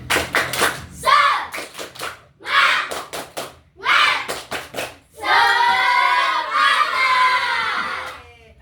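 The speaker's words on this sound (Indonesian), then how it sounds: "Oke, tepuk semangat." Third-grade schoolchildren in a classroom do a rhythmic spirit clap, with bursts of patterned hand claps alternating with loud group chanting and shouting, ending in a sustained excited cheer.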